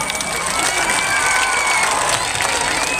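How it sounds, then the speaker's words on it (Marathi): A large outdoor crowd at a political rally in Amravati cheers and applauds steadily for three seconds, a dense wash of claps and shouts with a few high whistle-like calls rising through it. "तरी सर्वांनी त्यांचं टाळ्या वाजून एकदा स्वागत करावं."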